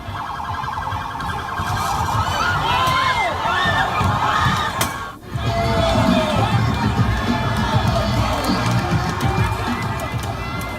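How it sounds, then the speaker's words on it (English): Protesters in a Brooklyn crowd scream and shout as two police vehicles drive into them. The noise is loud, chaotic and continuous, with wailing, siren-like tones and a brief dropout midway. "2 police vehicles drove into the crowd in Brooklyn with protesters screaming for their life"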